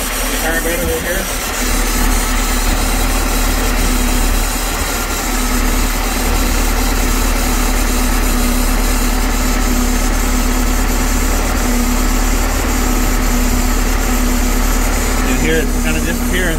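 The engine of a 2012 Larson LX850 boat idles on choke at its first start after nearly eight months of storage. It gives a loud, continuous low drone with a steady tonal hum and a busy mechanical clatter throughout.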